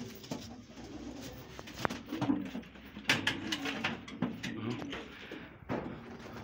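Pigeons coo inside a loft of flying pigeons: soft, throaty, overlapping calls close by with occasional wing flaps and rustling, and a voice talking faintly in the background.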